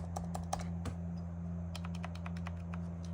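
Quiet, rapid typing on a NACODEX 79-key Bluetooth keyboard with round keycaps, a close run of soft, irregular key clicks over a steady background hum.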